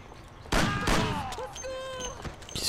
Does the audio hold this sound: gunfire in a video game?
yes